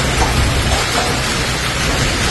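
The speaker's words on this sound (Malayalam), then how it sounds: "ഇടിമിന്നലും കനത്ത മഴയും" Heavy rain pouring steadily in the UAE during a thunderstorm, a loud, dense wash of drops with a deep low rumble underneath and no voices.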